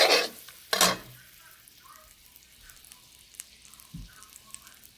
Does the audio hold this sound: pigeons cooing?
no